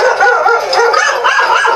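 A dog gives a steady run of high, yelping and howling barks, loud and close, with no talking over it.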